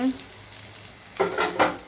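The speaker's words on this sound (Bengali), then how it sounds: "এদিকে ভাজাভুজি হচ্ছে ঠাকুরের" Food frying in a pan at home for a Lokenath Baba puja offering, with a couple of short stirring and sizzling bursts after a quiet stretch.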